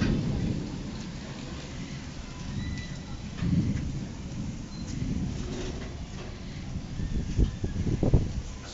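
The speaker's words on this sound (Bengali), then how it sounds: "বৃষ্টি পড়ছে দেখো," Heavy rain falls steadily outside during a storm with lightning and strong wind, a continuous dense hiss broken by several deep rolls of thunder that swell louder toward the end, with no voices.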